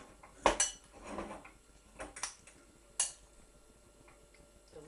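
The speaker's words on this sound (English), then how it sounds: "Just carefully stir it to coat the pasta with the pesto." Pasta being stirred with pesto in a pan: a few sharp utensil clinks and scrapes against the pan, sparse and close, with quiet gaps between them.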